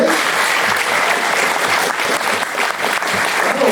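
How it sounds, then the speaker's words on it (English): An audience at a mayoral debate claps for the candidates, dense sustained applause that stays loud and steady from start to finish. "Please join me with a round of applause for our candidates."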